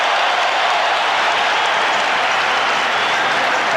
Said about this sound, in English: Bill Cartwright is back, and Will Perdue hears it from the crowd.